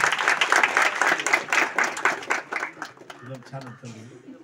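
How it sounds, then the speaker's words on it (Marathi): Students in a classroom clapping for a classmate, a burst of applause that thins out over a few seconds as a voice begins speaking near the end. "प्रतीक्षासाठी जोरदार टाळ्या स्वागत करा"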